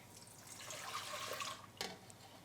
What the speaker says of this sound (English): And then we add our 2 cups of lukewarm water.